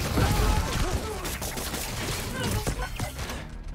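Gunfire in the Spider-Man: Miles Morales video game, a dense burst of shots and crashing impacts filling the whole clip over a busy game soundscape, with voices underneath.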